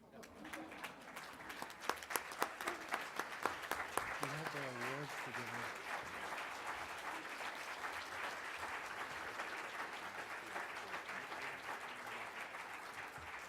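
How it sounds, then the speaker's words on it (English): Sustained applause from a conference audience giving a standing ovation to boot camp graduates, steady and full throughout, with some voices mixed in early on. "these guys definitely deserve a standing ovation"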